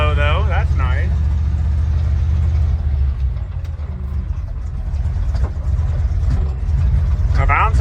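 An International Harvester Loadstar crew cab truck, parked for thirty years, pulls away in first gear off a muddy spot, its engine a loud, steady low drone up close, with brief squealing or whining sounds at the start and end.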